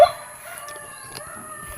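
A single rooster crow, fairly close, with a drawn-out tonal call fading over a quiet background.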